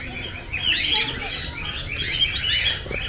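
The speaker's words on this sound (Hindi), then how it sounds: "तो ये है कोका टेल" Cockatiels at Malsi Deer Park zoo in Dehradun make a busy, overlapping chorus of high chirps and calls, moderately close and continuous against outdoor background noise.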